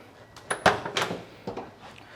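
Door of a 1983 Chevrolet K10 short-bed 4x4 pickup swung open: a sharp metallic latch click followed by a few soft clunks and rattles, close and fairly quiet, with no talking.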